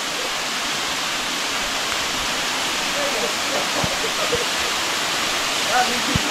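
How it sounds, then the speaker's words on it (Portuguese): Roaring, steady rush of the Cachoeira da Bica Grande waterfall near the Paraíba river, a constant broadband wash close by with a few faint knocks and low bumps over it. "Cachoeira da Bica Grande!"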